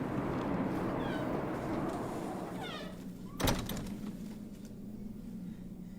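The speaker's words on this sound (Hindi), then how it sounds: "बिल्ली" A cat meows a few times over steady background rumble, followed by a sharp thunk like a sliding door shutting, then lingering ambient noise.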